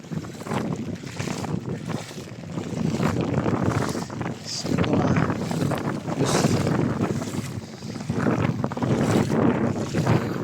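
Strong typhoon wind roars and buffets the microphone during Typhoon Ferdie in Occidental Mindoro, a continuous loud gusting rush along a flooded highway, with someone speaking briefly over it.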